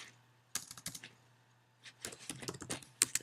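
Soft, quick tapping of a username typed on an iPhone or iPad screen keyboard, faint close clicks in short bursts separated by pauses.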